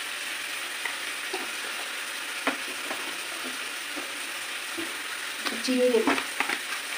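A spice paste with coriander powder sizzles steadily in a pan, a close, moderate frying hiss broken by clicking spatula strokes and a louder stirring scrape toward the end, with a brief spoken phrase.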